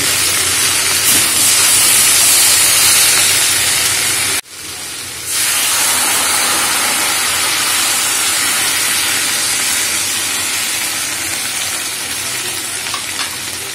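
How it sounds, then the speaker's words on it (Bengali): Water poured into a hot pan of Malabar spinach seed curry with prawns, then stirred, gives a loud, continuous sizzling hiss. It cuts out sharply for an instant and returns as a steady, slightly softer steam hiss. "দেড় কাপ পরিমাণ জল দিয়ে ভালো করে মিশিয়ে আমি ঢাকা দিয়ে দিলাম"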